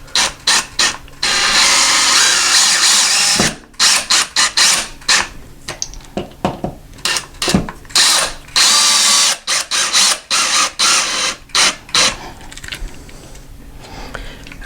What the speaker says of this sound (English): Now I am going to use the electric screwdriver to run it in a little bit further.